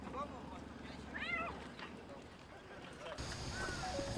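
Cats meowing on Sillido, a small island where many cats live, with a few short cries rising over outdoor background noise and murmuring voices.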